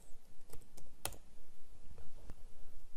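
A laptop keyboard clacks during a login, with scattered individual keystrokes and clicks at an irregular pace, fairly close and quiet, with no one speaking.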